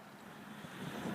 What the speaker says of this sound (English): It's windy, bloody windy.